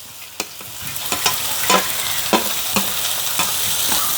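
Ginger, garlic, green chili and tomato frying in a pan, a loud close sizzle broken by repeated sharp scrapes and taps of a stirring spoon, with no voices.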